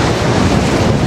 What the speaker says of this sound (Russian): Шторм, сильный ветер.